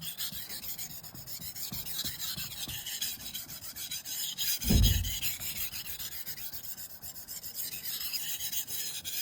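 Knife blade rubbed in steady back-and-forth strokes on a Shapton glass whetstone, a continuous close-up rasping scrape with one brief louder burst partway through, no voices.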